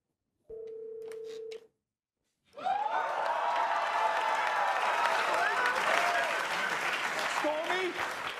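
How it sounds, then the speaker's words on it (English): A telephone tone rings briefly, then after a short silence a studio crowd at a live sketch comedy show breaks into loud, sustained cheering and applause with whoops, which carries on to the end. "listen to the cheers she gets from the crowd when she appears"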